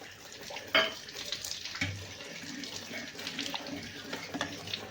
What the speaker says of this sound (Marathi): असं चुरगळून थोडंसं आपल्याला सांबारमध्येच टाकून घ्यायचे चिंचेचं पाणी